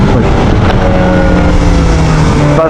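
Kawasaki ZX-4RR motorcycle engine held under throttle, a loud continuous high-revving drone with steady tonal whine and heavy wind buffeting, uninterrupted throughout.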